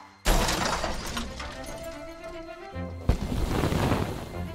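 A sudden loud crash with a shattering, clattering burst of debris, tumbling noise that fades, then a second sharp crash near the end.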